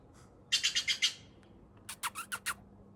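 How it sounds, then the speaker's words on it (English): Small birds chirp in two quick bursts of four or five sharp tweets, fairly loud and close, with a short quiet gap between the bursts. "the birds are going crazy, so I better feed them."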